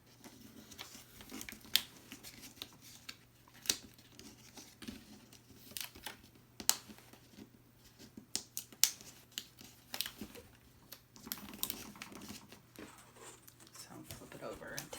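Layered heat transfer vinyl being peeled off its carrier sheet for a Cricut project, giving soft intermittent crinkles, crackles and tearing snaps over a steady low hum, with occasional quiet speech.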